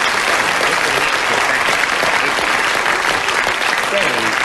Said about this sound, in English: You've unluckily got a round of applause.